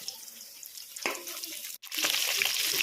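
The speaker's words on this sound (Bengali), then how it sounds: "এইভাবেই বাকি মাছগুলো ভেজে নিতে হবে" Pieces of rohu fish frying in hot oil, a continuous bright sizzle that briefly cuts out, then returns louder and denser, close and steady with no talking.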